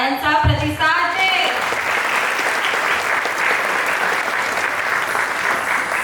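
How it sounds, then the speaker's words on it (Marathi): An audience at a school annual day dance event applauds a performer, starting with a brief spoken voice and then swelling into loud, sustained, dense clapping from a large crowd that continues steadily. "या कलाकाराला तुझ्या टाळ्यांचा प्रतिसाद दे"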